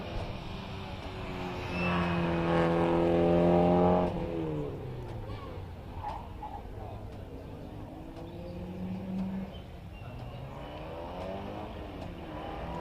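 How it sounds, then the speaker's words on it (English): A Porsche 924S race car on a sprint course, its engine revving and accelerating at moderate distance, rising then fading, heard under a commentator's continuous talk. "So here's Graham Rose now with the 924S."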